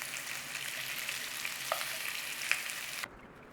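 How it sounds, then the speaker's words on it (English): Bacon frying in a pan makes a steady, dense crackling sizzle with occasional sharper pops, close and continuous before it cuts off near the end. "Now it's a case of you cook your bacon to how you like"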